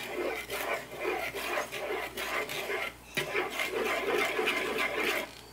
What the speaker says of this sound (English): And then you mix it all together.